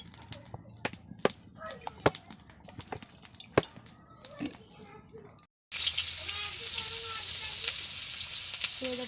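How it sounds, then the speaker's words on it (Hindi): Oil heats and sizzles in a hot kadai: first sparse pops and clicks with occasional quiet talk, then a brief silence before a loud, steady, close frying hiss takes over. "मैं कड़ाई बसई देछि, कड़ाई गरम हो गलानी तो ये तेल पके दोछि।"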